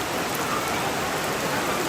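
Steady rain falls across the whole stretch, a dense, even patter on surfaces with no gaps and no voices.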